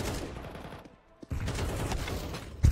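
Gunfire in Counter-Strike on the Mirage map: rapid crackling bursts of shots, a brief near-silent gap around the middle, then sustained firing and a louder blast at the very end.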